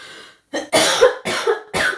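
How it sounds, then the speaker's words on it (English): Three or four harsh coughs in quick succession, close and loud, with brief pauses between them. "Please cut out all the coughing"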